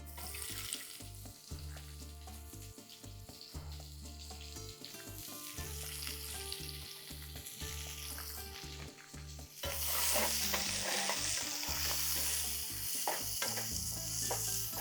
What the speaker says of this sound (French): on va faire cuire nos oignons.